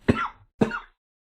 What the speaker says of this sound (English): I do still have a cough